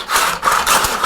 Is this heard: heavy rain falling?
no